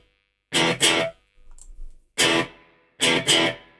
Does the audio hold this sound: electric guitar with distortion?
yes